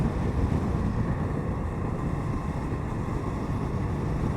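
An Indian FTR 1200 motorcycle accelerating in fifth gear at about 56 mph and just over 4,000 RPM gives a loud, steady engine rumble blended with heavy wind rush, with no talking.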